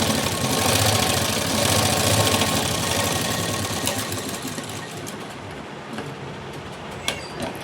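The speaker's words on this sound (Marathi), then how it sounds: "हा टक्स स्टिच करून घेऊया" A sewing machine runs in a steady, rapid mechanical rattle while stitching a tuck on the front panel of a blouse, loud and close, easing off toward the end with a few faint clicks.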